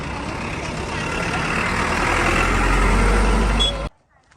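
A vehicle engine approaches on a village road, a broad rumbling roar that grows louder and nearer over a few seconds, then cuts off abruptly; voices murmur faintly beneath it.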